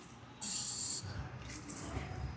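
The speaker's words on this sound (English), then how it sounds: "Same again, spray this bolt." GT85 penetrating spray hisses from an aerosol can onto a bolt on a Mk7 Fiesta's rear axle, one bright burst of about half a second followed by a couple of shorter, softer puffs.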